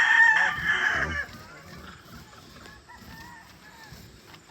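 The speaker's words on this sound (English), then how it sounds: "I only have 6 chickens in here. 5 hens and 1 rooster." A rooster in a small backyard pen of six chickens, five hens and one rooster, crows loudly and close for about a second, then quieter clucking and faint hen sounds continue, with a brief spoken word near the start.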